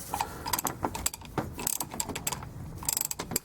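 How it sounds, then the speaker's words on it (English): A 1/2 inch ratchet from a complete socket set clicks in rapid bursts of sharp, close metallic pawl ticks, with brief pauses between strokes and no talk. "If you buy a complete socket set like this, and it comes with a ratchet, a 1/2 inch,"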